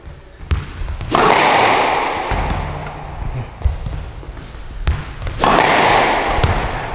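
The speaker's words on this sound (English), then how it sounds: "hitting the ball to the back corner" Sharp racket strikes and ball impacts echo in an indoor court as a ball is driven to the back corner during a drop-shot training session, several distinct thuds with loud reverberant swells between them.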